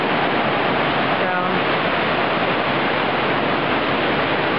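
Ocean surf at the Galveston seawall in Texas, a loud, continuous wash of breaking waves filling the clip with steady broadband roar and no distinct pauses.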